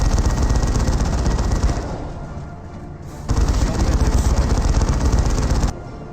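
Sustained rattling gunfire and booming blasts in the Dawn of War 2: Elite strategy game during a Tech Marine versus Warp Spider battle, loud continuous bursts that dip briefly before resuming at full strength.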